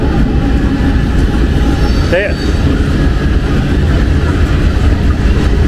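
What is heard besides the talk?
freight train passing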